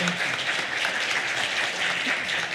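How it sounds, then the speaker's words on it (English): A crowd applauds steadily, a dense wash of clapping hands that stays even for the whole stretch. "will you please give her another round of applause"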